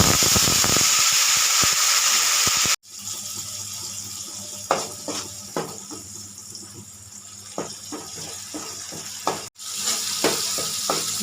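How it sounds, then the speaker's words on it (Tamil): Onions sautéing in a pan for a Kanangatha fish curry, a soft steady sizzle with scattered stirring clicks and scrapes, broken by two brief sharp cuts in the sound. "இப்போ வந்து இந்த வெங்காயம் வந்து பச்சை வாசனை போகிற வரைக்கும் நல்லாவே வதங்கட்டும்"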